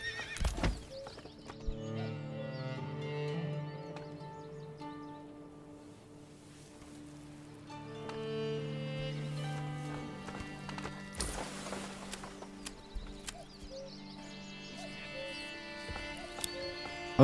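Rhythmic horse hooves clip-clop with a whinny over layered game music in Manor Lords, the hoofbeats steady and fairly close throughout.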